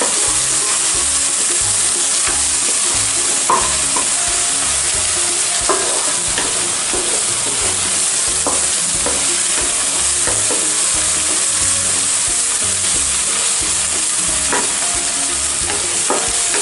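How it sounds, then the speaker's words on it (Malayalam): Crushed ginger and garlic frying in hot oil for a pepper chicken dish, a loud, continuous close sizzle with occasional stirring scrapes and spatters and no talking throughout. "വെളുത്തുള്ളിൻ്റെയും ഇഞ്ചിൻ്റെയും ചതച്ച ഇപ്പം എണ്ണയിൽ നല്ലോണം പൊരിഞ്ഞ് വരുന്നുണ്ട്"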